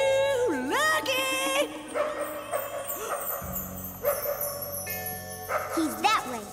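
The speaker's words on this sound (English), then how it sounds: "That barking could have come from anywhere." A cartoon dog barks and yips faintly in the distance during an outdoor search, mixed under lively music and animated voices talking over it.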